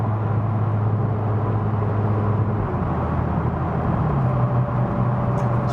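A McLaren 570 GT accelerating on the Autobahn makes a continuous engine drone heard from inside, with the pitch shifting and climbing partway through, and no talking.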